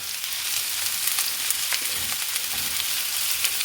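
Grated carrot and onion frying in hot oil in a skillet, a steady close sizzle with faint intermittent stirring clicks and no voices.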